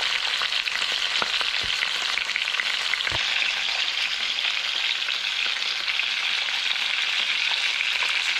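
Horse mackerel (scad) sizzles steadily in a hot pan, a dense continuous frying hiss with a few faint pops and clicks, no talking.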